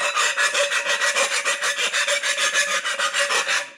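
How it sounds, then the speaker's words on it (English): A fine file is run around the top edge of a solar oven cooking tray to take off burrs, making close, steady rasping strokes in a quick, even rhythm of about twenty passes with no talking. "just a real fine file, and I think what I'm going to do is just kind of run this around the top to get any burrs"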